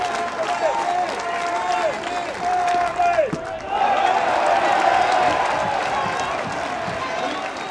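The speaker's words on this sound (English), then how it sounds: "look at the crowd's reaction for Charlie Taylor." A college baseball stadium crowd at an Alabama State versus Tennessee game roars and cheers, a broad sustained wash of noise that swells midway, with a commentator talking over it.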